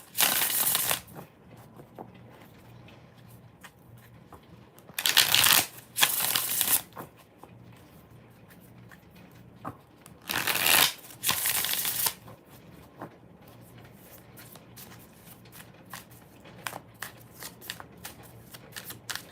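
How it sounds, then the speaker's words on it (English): Tarot cards being shuffled close up in several distinct bursts of brisk riffling and flicking, separated by quieter stretches with light handling noises. "4 more shuffles."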